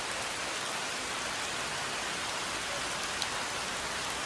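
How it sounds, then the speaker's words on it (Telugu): Steady rain falls in the Ananthagiri Hills, an even, dense hiss of drops on surfaces heard alone at moderate level without pause. "తగ్గింది వర్షం."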